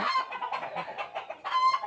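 A flock of chickens clucks busily and continuously, close and fairly loud, with overlapping calls and no talking.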